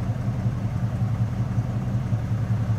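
A 5.3 V8 engine in a 1977 GMC Sierra K15 pickup idles steadily nearby, a low, even rumble with a slight rhythmic lope and no voices.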